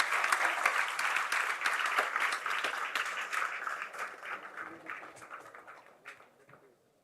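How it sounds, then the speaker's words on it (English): Audience applause at a conference, a dense wash of many hands clapping that starts loud and gradually fades out over several seconds, heard on its own without talk. "let's give a bigger round of applause"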